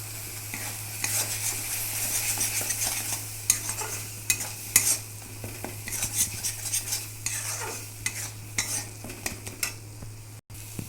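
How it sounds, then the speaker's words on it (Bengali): A spice paste with turmeric and salt, cooked for a small-shrimp malai curry, sizzles gently in a pan while a spoon stirs and scrapes in irregular clinks and strokes, close up. "মশলাটা কষানো হয়ে গেছে"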